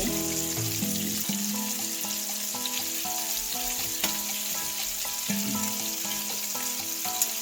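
Turkey meatballs frying in a pot on low heat give a steady, close sizzle throughout, with light clinks and stirring noises on top and no talking.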